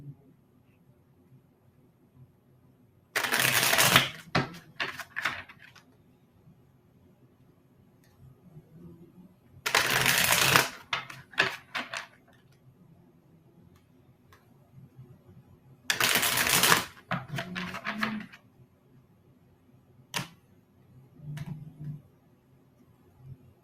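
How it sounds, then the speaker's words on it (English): Tarot cards are shuffled in three separate bursts of crisp riffling, each lasting about a second and followed by soft taps and card handling, with quiet pauses between them. "let me just shuffle for the outcome on this"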